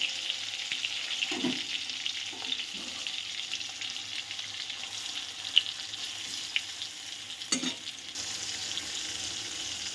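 Pieces of pointed gourd frying in oil in a pan over a low gas flame, giving a steady, soft sizzle with a few brief louder crackles and stirring sounds, no talking.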